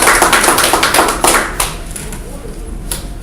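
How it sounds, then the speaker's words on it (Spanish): An audience applauds in a hall to welcome a speaker at an evening lecture session, a burst of clapping that is dense at first and then thins and fades over a few seconds. "por favor, un fuerte aplauso de bienvenida"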